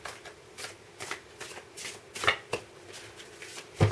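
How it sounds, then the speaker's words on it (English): A deck of tarot cards being shuffled by hand: a run of quick, papery riffling bursts at an uneven rhythm, close and fairly soft, ending in a louder clatter as cards spill out. "It's a bit tricky to shuffle, so we shall just go nice and easy"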